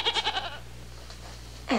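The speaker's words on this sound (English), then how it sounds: "I could have sworn I heard a goat." A goat bleats in a few quick wavering pulses, fairly faint over a steady low hum, followed by quiet and then a brief louder sound at the end.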